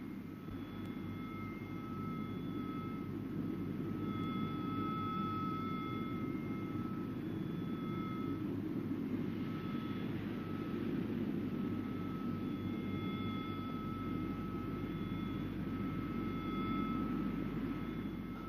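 A jet aircraft roars steadily overhead, a loud continuous engine drone with a high whine, no voices.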